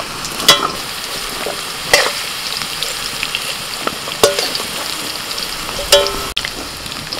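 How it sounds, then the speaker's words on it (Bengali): Bay leaf and five-spice seeds sizzle and fry in hot oil in a home kitchen before chopped onion goes in, a steady close crackle broken by a few sharp stirring clatters, with no talking. "এবার ফোড়নে দিচ্ছি তেজপাতা, 5 ফোড়ন।"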